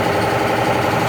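A 2018 Honda Civic Hatchback running on a modified Injen 3-inch hybrid exhaust with an Xcelerator muffler, giving a steady, close, loud idle drone with no talking.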